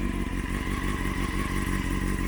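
A Honda CB600 Hornet motorcycle engine running steadily, a loud close idle with a rapid even pulsing throb and slight clatter, no voices.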